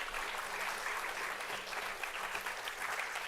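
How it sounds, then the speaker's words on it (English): Sustained clapping from an audience at a convocation program, a dense, even wash of hands held at a steady level throughout without talk. "And a huge round of applause I would be expecting."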